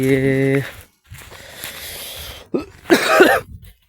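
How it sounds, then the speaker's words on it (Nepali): A few harsh coughs near the end, close and fairly loud, after a stretch of muffled background noise. "काँसो लाग्छ, खोकी लाग्छ।"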